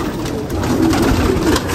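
Pigeons settled into their new loft coo in a steady, close, fairly loud murmur that continues without pause and without any talking.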